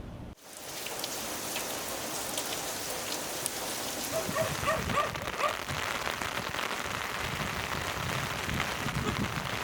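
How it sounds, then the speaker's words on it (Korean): Rain falls on a one-person tent at a campsite, making a dense, steady patter that starts after a brief sharp click and grows slightly fuller. "비가 내리는 그 소리를 바로 들을 수 있어서 이 텐트에 떨어지는"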